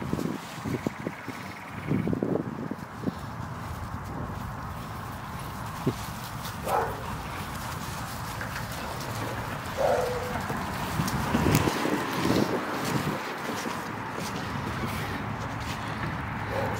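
Several puppies bark and yip intermittently indoors, a few sharp barks standing out over a steady background of scuffling and movement, with no one speaking.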